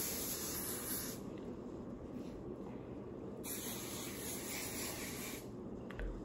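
Continuous hairspray hissing steadily for several seconds as it is sprayed over hair, with brief pauses in the high hiss, close and fairly quiet, no voices.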